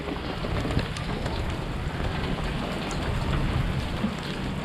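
Steady rain pours and patters continuously, a dense even hiss of drops with no voices.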